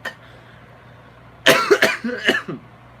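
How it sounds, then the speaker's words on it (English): A faint tick, then a sudden close cough: a few harsh, rough bursts in quick succession after a quiet stretch. "Sorry, there's the cough."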